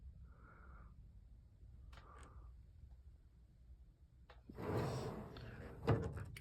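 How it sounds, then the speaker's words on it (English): A couple of faint metal scrapes, then a louder rolling slide of a drawer on a vintage, somewhat rusty Mac Tools tool box being pulled open with a clack at the end, close up. "On-slide drawers."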